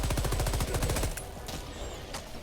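Sentry turrets fire in the video game Dune. A fast, rhythmic automatic burst rattles for about a second, then a few scattered, sharper shots follow at a lower level.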